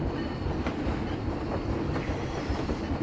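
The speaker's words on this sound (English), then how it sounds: "Train's moving." A ride train rolls along its track in the Planet Coaster theme-park game, giving a steady, loud rumble with rhythmic clickety-clack wheel beats throughout and no talking.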